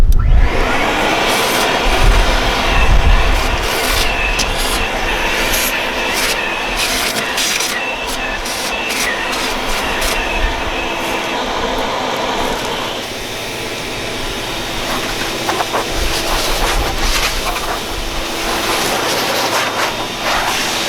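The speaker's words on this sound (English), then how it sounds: "The first side, I'm going to vacuum up the big pieces." A loud, steady shop vacuum motor whines continuously, with large debris pieces rattling and scraping through the hose in short bursts, outdoors in a driveway during a retractable screen door installation.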